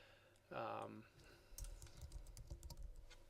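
Quick, close clatter of typing on a computer keyboard, a burst of light rapid keystrokes following a short spoken phrase.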